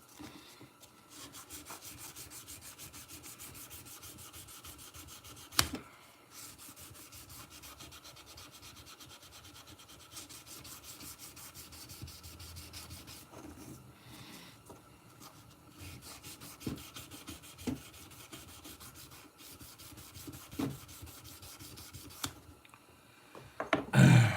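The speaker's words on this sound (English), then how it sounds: "Let's finish sanding." Continuous rhythmic rasping of sandpaper rubbing against a wooden pocket knife handle, steady strokes for a long stretch, close up, with occasional light knocks and taps.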